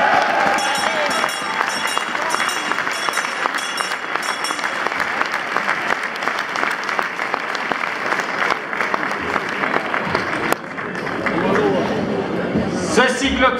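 A crowd applauds at the Malmedy carnival, dense continuous clapping and cheering mixed with chatter and a voice speaking over it, loud and sustained throughout.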